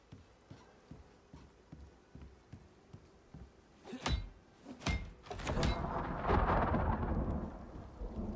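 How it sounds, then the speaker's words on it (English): A flash storm in the video game Icarus: soft rhythmic rain patter gives way to sharp thunder cracks followed by a loud, rolling rumble that swells and lingers. "Oh man, it's a flash storm too?"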